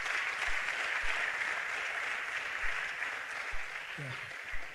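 An audience at a DataFest Africa 2022 event applauds as judges come forward, a steady wash of clapping from a crowd that continues throughout, with brief speech heard faintly under it.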